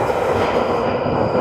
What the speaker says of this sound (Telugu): మేము ఎక్కే ట్రైన్ వచ్చింది